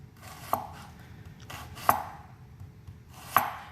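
Three sharp knife chops through a large onion on a cutting board, evenly spaced about a second and a half apart, close and clear against a quiet kitchen background.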